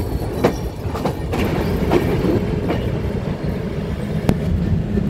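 The Sagardari Express rolls into Khulna railway station with a steady low rumble and rhythmic clickety-clack of wheels over rail joints, punctuated by sharp metallic clanks, heard from aboard with no talking.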